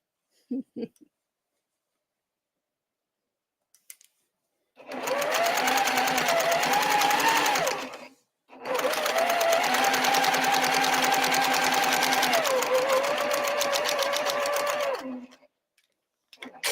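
A sewing machine stitching holiday projects runs in two long, loud steady bursts with a brief pause between, its rapid mechanical whir close and clear, preceded by a few small clicks.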